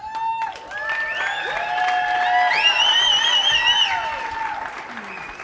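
A live audience breaks into sustained applause with some cheering as a speaker walks on stage at a sales event, rising to a full roar mid-way before tapering off.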